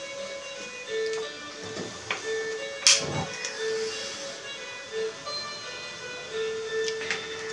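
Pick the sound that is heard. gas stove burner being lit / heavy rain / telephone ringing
gas stove burner being lit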